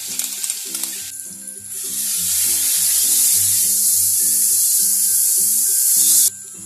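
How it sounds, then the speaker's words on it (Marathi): Ground masala paste sautés in hot oil in a kadhai, a loud steady sizzle that swells after a brief start, with rhythmic scraping and stirring strokes running throughout and no voices. "आता आपण हे वाटण याच्यामध्ये परतून घेऊ."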